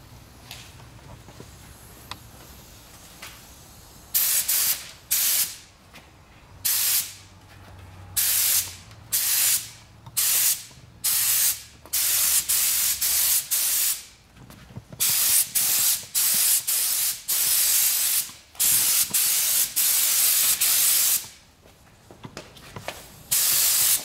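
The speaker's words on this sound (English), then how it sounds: "and now we can start spraying." A spray gun fed by an air compressor hisses in repeated bursts of a few seconds each while painting a Honda Civic, loud and close, with short pauses between passes and a faint low hum underneath.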